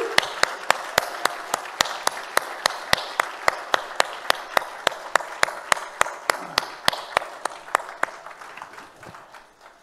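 An audience at a discussion event breaks into steady applause of many hands clapping in a dense, continuous patter that gradually fades away toward the end.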